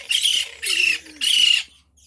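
A lorikeet being fed lets out three loud, harsh squawk bursts in quick succession, each lasting about a third of a second with short gaps between, close by with nothing else over them.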